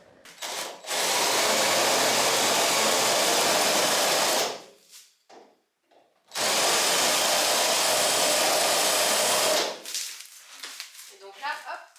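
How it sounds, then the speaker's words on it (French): An angle grinder disc cuts the sheet-metal wheel arch of a Citroën 2CV body in two loud, sustained high-pitched whining bursts of about four seconds each, separated by a short pause, with faint clanks afterward. "je vais venir disquer là le passage de roue pour avoir de la place pour travailler"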